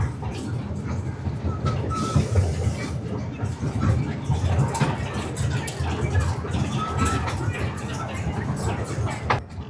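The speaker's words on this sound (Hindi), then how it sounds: "अब हमारी ट्रेन जो है वापस जंक्शन पे पहुंच चुकी है।" A small ride train at the National Rail Museum in Delhi rumbles steadily along its track, with low rolling noise and faint clicks throughout, while people talk in the background.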